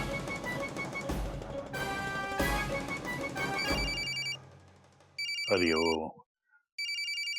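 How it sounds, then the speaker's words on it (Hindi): A telephone ringtone sounds in repeated bursts of electronic tones after a stretch of music, with a brief voice and a sliding effect between the rings. "फोन तो यहीं कहीं बज रहा है"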